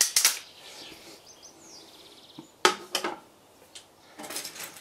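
A customised Walther LGU air rifle fires at an outdoor target: a sharp crack at the start, another near the three-second mark, and a few softer clicks and taps in a quiet background.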